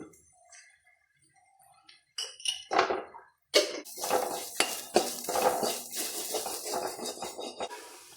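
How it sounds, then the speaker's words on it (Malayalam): Cooked chickpeas being stirred together in a pan for a Kerala-style kadala upperi: a quiet start gives way to scraping and clinking of a spoon against the pan, with light sizzling and irregular stirring strokes close by. "വേവിച്ച് വെച്ച കടല ചീഞ്ചട്ടിയിലേക്ക് ഇട്ട് എല്ലാം കൂടി കൂട്ടി ഇളക്കുന്നു."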